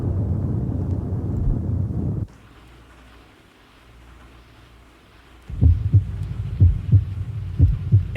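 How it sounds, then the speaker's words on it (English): A slow, deep heartbeat thump opens after a quiet stretch in an album, low throbbing pulses repeating steadily and fairly loud, following a dense earlier passage of music. "And then the heartbeat."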